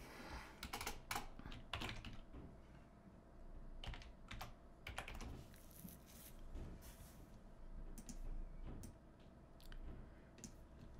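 Steady typing on a computer keyboard at a desk while working in Adobe Illustrator, soft irregular key taps and clicks over a constant low background hiss, no voices.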